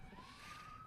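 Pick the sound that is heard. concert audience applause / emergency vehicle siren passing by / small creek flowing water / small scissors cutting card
emergency vehicle siren passing by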